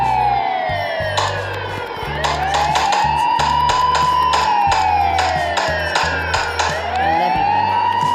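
A police vehicle siren wails loudly in a video game, sweeping up and down continuously with repeated horn-like blasts and layered game sounds underneath.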